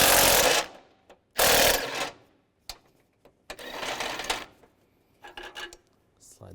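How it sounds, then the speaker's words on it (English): 15mm socket wrench removing a bolt on a 2006-2011 Cadillac DTS during an engine mount replacement: rapid loud ratcheting bursts, then scattered metallic clicks and a longer rattling run, close up. "Use a 15mm socket, take this bolt out, be careful of the fuse box."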